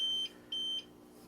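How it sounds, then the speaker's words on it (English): An APC rack-mounted UPS running on battery with no AC power beeps two short, shrill, high-pitched times, each about a quarter second long, over a faint steady hum. "That one's beeping because it can't find any AC power."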